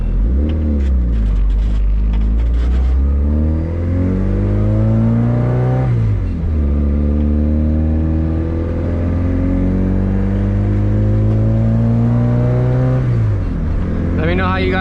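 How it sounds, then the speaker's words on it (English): A turbocharged D16 Honda EF hatch with a full 3-inch exhaust, revved repeatedly in long, loud, close pulls that rise and fall, with a brief dip between them and a short hiss at the end. "Let me know how you guys like the exhaust."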